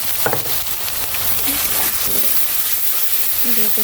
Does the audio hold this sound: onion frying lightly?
yes